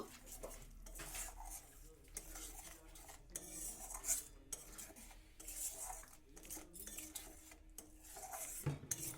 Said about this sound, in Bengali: এবার ভালো করে মশলাটাকে একটু তেলের মধ্যে নাড়াচাড়া করে নেব